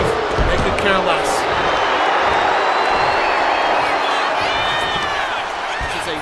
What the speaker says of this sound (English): This crowd is not loving it